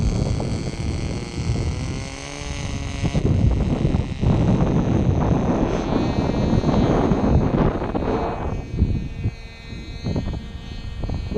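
A 1/2A Herr Cloud Ranger model airplane powered by an AP 061 engine drones steadily through the air, its whine continuous and fairly loud over rushing wind buffeting the microphone.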